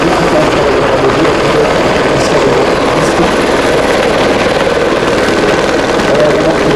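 Aérospatiale Écureuil helicopter flying with six people aboard, a loud, steady rotor and turbine roar filling the whole stretch without a break.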